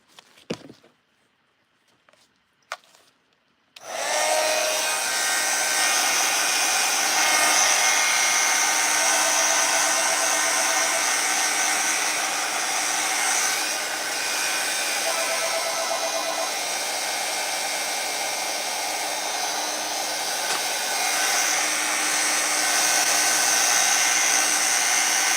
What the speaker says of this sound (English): I'm just drying it.